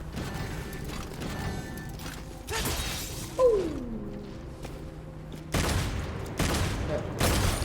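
Gunfire in Devil May Cry 5 comes as several loud, dense bursts of rapid shots separated by quieter stretches, with mechanical clanks and a falling whoosh between them.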